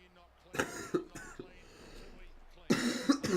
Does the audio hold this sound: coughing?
yes